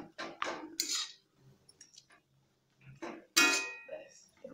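Metal plates and steel dishes clink and clatter in a home kitchen as a serving plate is pulled out for aloo chop, sharp bright rattles in a few bursts with quiet gaps between, close and fairly loud.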